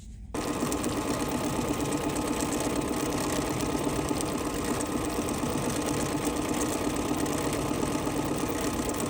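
An embroidery machine stitches a feather pattern about 18.9 inches long for quilt sashing, giving a steady, loud, continuous mechanical whir and rapid needle chatter that runs without pause from just after the start.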